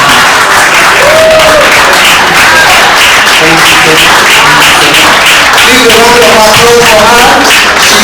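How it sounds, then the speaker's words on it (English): An audience at a donation event for a Girls Go-To-Sea campaign applauds loudly and continuously, with talking mixed in over the clapping. "Please, a round of applause for her."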